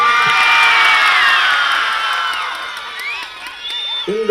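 A crowd at a Marina beach cleanup launch event in Chennai erupts in loud cheering, whoops and shouts mixed with clapping, strongest at first and then easing, with excited voices still rising near the end.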